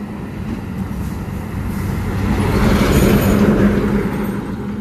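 Vehicles rush past at speed on a ghat road, a loud, close, continuous roar that swells as traffic passes, with no talking over it.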